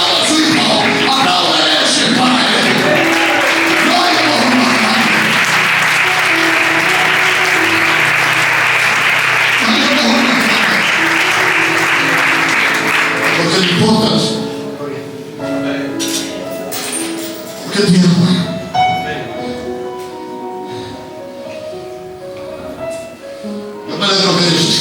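A church congregation breaks into loud, sustained applause that fills the first fourteen seconds, then fades into scattered clapping, a murmuring crowd and a voice speaking over the room.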